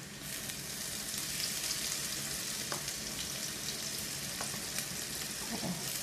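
Steady, close sizzling of tofu frying in hot oil in a wok for crispy tofu, with faint occasional scrapes and clicks, continuous throughout and no talking.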